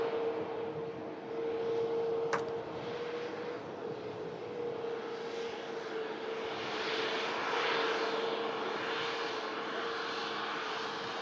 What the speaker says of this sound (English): This Ryanair is a Boeing